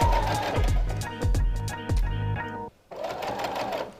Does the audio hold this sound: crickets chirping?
no